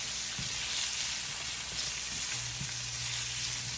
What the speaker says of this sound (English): Kind of want to get a good sear on it.